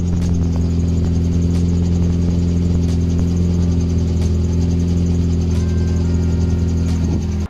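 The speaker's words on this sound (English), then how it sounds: "the Micra was finally running right" A Nissan Micra K11 engine runs at a steady idle with a smooth, even drone and faint periodic ticks, close and loud, stopping abruptly at the end.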